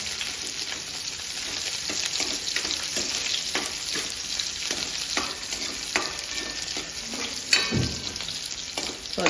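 Garlic and onion fry in hot oil in a pan as the base for a fish curry, giving a loud, continuous sizzle broken by scraping stirs and a few sharper crackles, with no voices.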